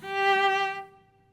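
A single sustained cello note bowed forcefully with fast bow and added vibrato, rich and resonant with a slight wavering pitch, swelling then fading into a quiet tail, heard solo and close.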